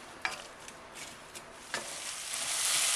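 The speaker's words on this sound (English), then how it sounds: "that just goes into the bottom of the pan where we need to fry it off for about 10 minutes" Onion, garlic and ginger fry in a pan as the base for chicken tikka masala, with a soft steady sizzle broken by a few stirring scrapes and the hiss swelling toward the end.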